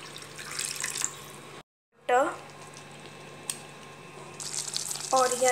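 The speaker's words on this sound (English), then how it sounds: "Now we will add 1 cup water." One cup of water goes into a hot pan of Maggi masala and salt, a close, bubbling hiss and sizzle that cuts out briefly, then returns with splashing and crackle.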